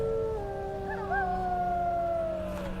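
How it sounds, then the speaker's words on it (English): Dogs in the video game Enderal howl in long, sustained, wavering tones that overlap and slowly fade, heard alone over a low game ambience. "Oh, dogs."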